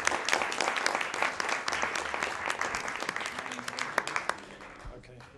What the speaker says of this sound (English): I'd just like to a warm round of applause for Mr.